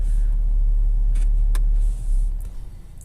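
A car engine idles steadily after its Autowatch Ghost 2 CAN-bus immobiliser is disarmed, a continuous low rumble close by with a few brief clicks, then the engine sound dips and wavers near the end.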